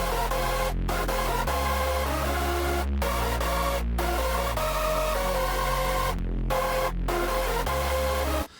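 A bright synth lead in a hard dance sound, squashed with heavy OTT multiband compression, plays a steady rhythmic phrase with short gaps between notes over a deep bass, loud and dense with no voices.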